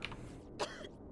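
A single short cough or throat clear, faint and close, over a quiet low background hum in the horror video game Corpse Party.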